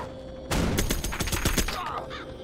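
A minigun in the real-time strategy game Contra X Beta fires a loud, rapid, continuous burst after a short spin-up, with a unit voice line over the gunfire.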